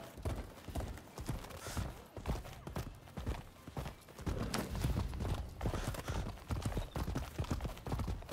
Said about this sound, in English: This horse is lazy.